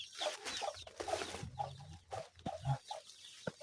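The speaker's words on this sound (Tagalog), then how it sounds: "Parang manok na ihalas." Wild junglefowl clucking in a forest, several short clucks scattered among outdoor ambience and rustling, fairly faint and close to mid-distance, with no talking.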